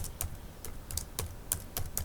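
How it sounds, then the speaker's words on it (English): Keys clatter on a computer keyboard while text is typed into Microsoft Word, giving a quick run of close, crisp clicks in an uneven rhythm. "And now I type today."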